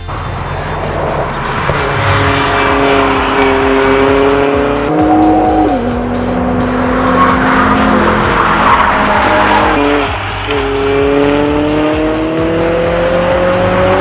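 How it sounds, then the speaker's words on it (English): A race car roars loudly around the Castle Combe track, engine pitch rising and falling through gear changes, with tires squealing and skidding throughout. "Obviously, Jamie's mini is out on track now."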